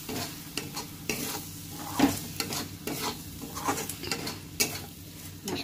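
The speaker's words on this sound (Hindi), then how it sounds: "इसको पूरा अच्छे से भून लेते हैं।" Spice masala is stirred and roasted in a hot pan: a steady sizzle of frying runs underneath repeated scraping strokes of a spoon against the pan, close and continuous.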